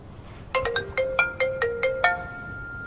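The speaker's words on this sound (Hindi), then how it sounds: "अनिल का कॉल" A phone ringtone announces an incoming call, a melodic electronic tune of about eight clear beeping notes in a steady rhythm, heard close and alone with no talk over it.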